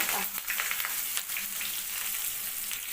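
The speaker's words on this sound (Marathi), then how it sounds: "आता याच्यात आता इथे मिरच्या तळायला टाकलेल्या आहे." Green chillies and curry leaves fry in hot oil in a home kitchen, giving a steady close sizzle and crackle throughout with a few sharper pops.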